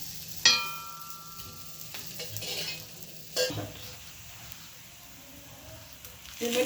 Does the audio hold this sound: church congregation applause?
no